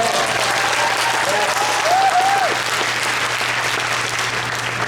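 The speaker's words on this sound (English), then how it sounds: "we got to give him a round of applause" Applause from a convention panel audience, dense and sustained clapping with a brief voice cutting through it, loud and close.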